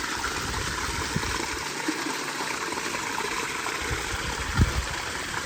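Water gushing hard under strong pressure while cleaning a dirty dairy farm tank, a steady broadband rush that stays loud and unbroken throughout, with a few faint thumps underneath.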